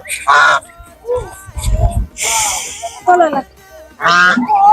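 Loud honking quacks from ducks bathing in the Meghna River come in several bursts, close by, with splashing water and a voice talking between calls.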